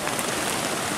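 Steady rain patters on a tarp over a bushcraft bivouac camp in mild weather, a dense continuous hiss with no voices.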